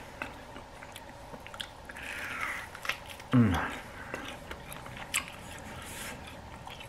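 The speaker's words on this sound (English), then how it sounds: "we're just chewing it" Someone gnaws on a tomahawk steak bone up close, with wet squishing chews and a sharp crunching bite midway, alongside a voice.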